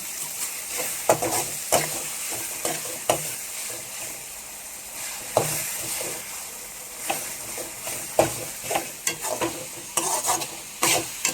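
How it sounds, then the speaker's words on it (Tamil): Tomato, onion and green chilli sauté in a hot pan with a continuous soft sizzle, while a spoon scrapes and taps against the pan in irregular strokes close by. "பார்த்தீங்கன்னா தக்காளி, வெங்காயம், பச்சை மிளகாய் எல்லாமே விதங்கிடுச்சு."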